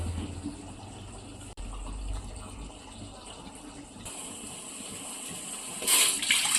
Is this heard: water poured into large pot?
yes